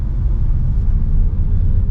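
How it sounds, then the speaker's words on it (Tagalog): Inside a DIY-converted electric car on the road near Tagaytay, a steady low rumble of tyre and road noise with no engine sound, continuous and fairly loud throughout. "sobrang ano tahimik parang actually road noise lang talaga yung maririnig mo."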